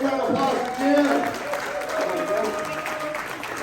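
Applause from a crowd at a California GOP governor candidates forum in Laguna Hills, moderate clapping running under overlapping voices throughout.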